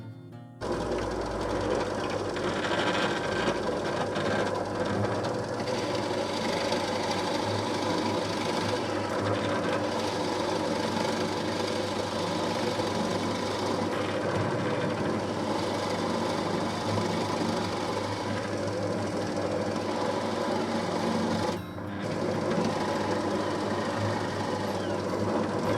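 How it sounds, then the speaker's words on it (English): Steady, loud mechanical whirring and grinding that runs continuously with only a brief dip near the end, as a drill press bores into wood with a Forstner bit. "then we'll go to the drill press and drill through with the Forstner bit"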